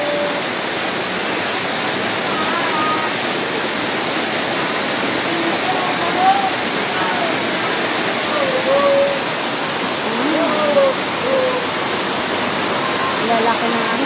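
Heavy rain with large drops pours down in a steady, loud, dense hiss that stays close and unbroken throughout, with faint voices talking underneath.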